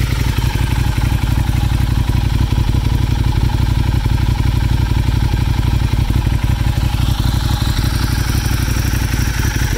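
A 2013 Ducati Diavel AMG motorcycle with a dry clutch idles close by, its engine and exhaust giving a steady, loud, throbbing rumble with a faint mechanical clatter throughout.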